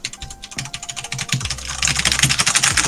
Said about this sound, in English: Yeah, you certainly are typing, okay.